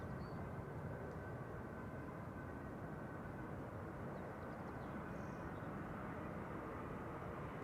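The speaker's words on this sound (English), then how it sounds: "Next arrival is an A220 or Bombardier C Series 300." A Croatia Airlines Airbus A220-300 arriving from Zagreb at Amsterdam Schiphol gives a steady, moderately distant jet roar that holds at an even level throughout, with no voices.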